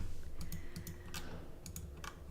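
Quiet, close clicking of keys on a Keychron mechanical computer keyboard comes in short irregular bursts of keystrokes against a soft background hum.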